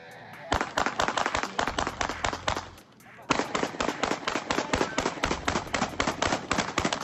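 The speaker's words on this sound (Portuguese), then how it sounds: "são as imagens desta troca de tiros que aconteceu na Vila Cruzeiro aqui em Porto Alegre" Dense bursts of gunfire from an exchange of shots in Vila Cruzeiro, Porto Alegre, dozens of sharp cracks in rapid irregular volleys, loud and near, with a brief lull before firing resumes.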